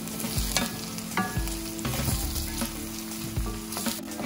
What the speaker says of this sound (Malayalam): ഇത് നല്ലോണം നമുക്കൊന്ന് വഴറ്റിയെടുക്കാം